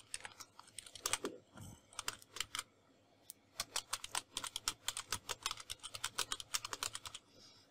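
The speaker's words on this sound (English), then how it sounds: "Let me type one more." Fingers type on a computer keyboard in quick bursts of crisp, close clicks, pausing briefly before resuming a rapid run of keystrokes in a quiet room.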